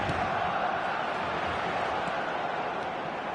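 Stadium crowd at a football match, a dense, steady roar of many voices filling the air without pause, with no single voice standing out.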